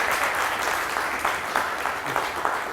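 Audience clapping for performers at the Ehd-e-Wafa silver jubilee award show in Chitral, a steady dense wash of hands with a few sharper claps rising out of it, sustained and fairly loud throughout.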